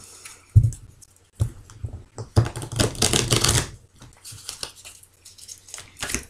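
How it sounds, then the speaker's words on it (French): Tarot cards are shuffled by hand in a few quick, close riffling bursts. Between them come short pauses and light handling clicks. "il faut bien que je brasse les cartes à main"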